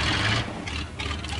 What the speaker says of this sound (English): I'll press Control E for engine to start the engine